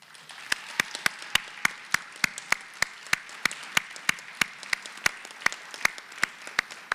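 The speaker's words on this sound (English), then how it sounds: "please join me once again in applauding all of our new National Honor Society members." A single person claps at a steady, even rhythm, sharp and distinct against a quiet room, during a high school National Honor Society induction ceremony honoring new members.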